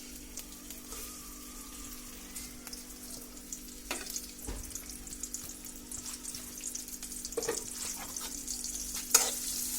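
Chopped onion, garlic and dried chilli frying in oil in a pan for a spinach dish, a soft continuous sizzle broken by intermittent stirring scrapes and clinks that grow busier toward the end.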